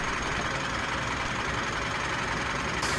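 A Mitsubishi Pajero's engine idles in the off-road driving game Spintires MudRunner. It makes a constant, moderately loud rumbling drone that runs unbroken with no speech.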